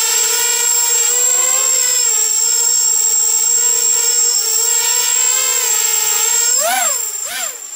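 A RoboCat 270 drone hovers steadily nearby, its loud, continuous high-pitched propeller whine holding a constant tone, then wavering in pitch through brief speed changes near the end.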